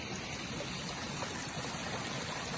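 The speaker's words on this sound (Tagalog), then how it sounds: "Yung mga agos ng tubig, ayan." Continuous rushing of a river in the Philippines, a steady broadband wash with no pauses, moderately quiet and even throughout.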